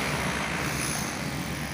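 An airplane at Ngloram airport gives off a loud, steady engine roar that fills the whole stretch without a break, and no voices are heard.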